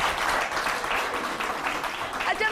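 Studio audience applause on a Pakistani weekend talk show, a dense wash of clapping at steady volume with no clear pauses, fairly close and continuous throughout.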